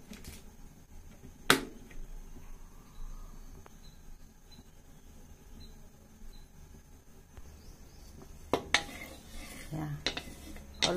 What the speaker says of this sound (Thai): ตั้งกระทะแล้วก็ใส่น้ำมันลงไปนิดหน่อย